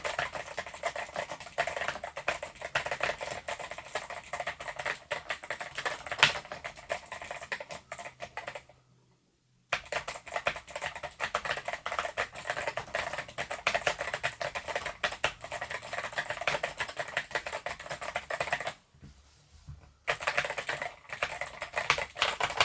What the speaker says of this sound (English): So we'll do a sound test now